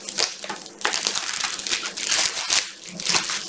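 Cardboard and plastic packaging of a Sword Art Online 10th Anniversary Weiss Schwarz card box is torn and crumpled open at close range, with continuous crinkling, ripping and crunching in loud bursts and no talk.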